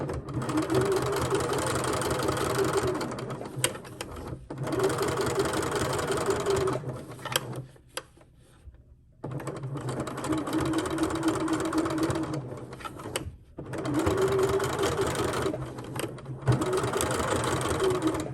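A sewing machine stitches a fabric key fob wristlet, loud steady whirring runs broken by short pauses, close up, with no talk over it.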